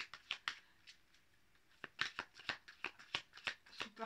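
Tarot cards being handled and shuffled, a quick series of crisp riffling snaps and soft flicks, close and fairly quiet with no voice.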